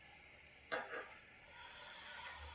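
Stuffed snack frying in oil in a wok, a soft steady sizzle with a couple of brief bubbling pops, faint and close, with no talking.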